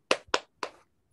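Three sharp, close handclaps in quick rhythm, two fast and one after a short pause, as a small group does a 'tepuk semangat' cheer clap during a facilitation session.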